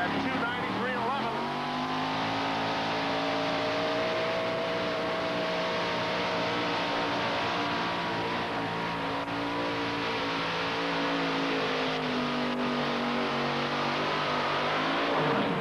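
At a 1988 NTPA tractor pull in Syracuse, a pulling tractor with a Rodeck 557 engine roars continuously while dragging a sled down the track, its loud sustained engine howl running under an announcer's commentary.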